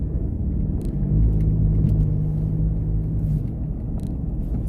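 A truck being driven on a cold morning commute, heard from inside the cab as a steady low engine and road rumble with a faint droning hum, no one speaking.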